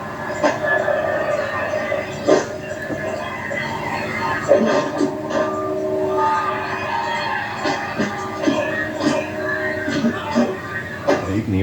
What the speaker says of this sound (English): I can hear a train in the background of this video.